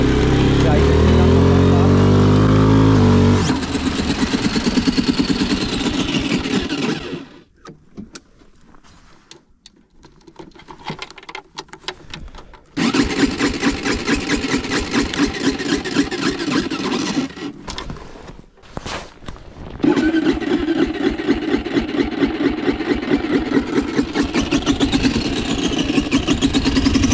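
An ATV engine runs loud and steady off road, dropping briefly to a quieter, choppier idle before revving back up to a strong, continuous drone.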